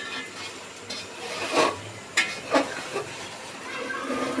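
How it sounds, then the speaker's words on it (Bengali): Rice toasting in oil in a pan: a soft continuous sizzle with bursts of scraping stirring that rise and fall, all up close and moderately quiet. "আমি ফুলের চালটা দিয়ে এখন একটু ভালোভাবে ভেজে নিচ্ছি"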